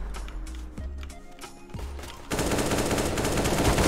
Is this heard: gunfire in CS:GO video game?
yes